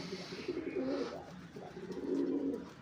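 A pigeon coos softly and steadily beside its nest of eggs and chicks, with repeated low throaty phrases and no voices.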